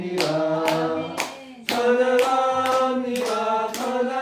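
A church congregation claps in steady rhythm while singing praise at a Korean Sunday afternoon service, with sharp regular hand claps mixed with the voices and melody of the choir-like singing, loud and close.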